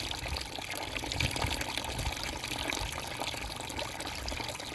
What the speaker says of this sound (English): you want to put hot water back in it